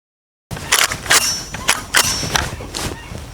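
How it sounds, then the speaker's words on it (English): A DSArms G1 rifle clone fired outdoors, a string of about six sharp reports at uneven intervals, loud and close with short echoing tails. "we're going to fire a couple rounds and do our initial review of this rifle"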